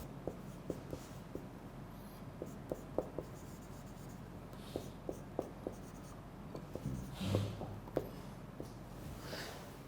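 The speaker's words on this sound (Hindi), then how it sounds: "मैं इधर ही लिख देता हूँ।" Marker strokes on a board during an online English grammar lecture: a series of short, crisp taps and scratches in an irregular rhythm, close and fairly quiet over faint room hiss, with no one talking.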